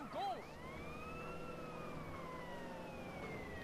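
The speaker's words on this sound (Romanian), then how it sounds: "E mașina de poliție în spatele meu" A police car siren in GTA San Andreas wails close behind with a rising and falling tone, loud and steady over game noise, with a short horn-like blip at the start.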